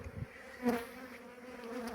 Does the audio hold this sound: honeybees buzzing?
yes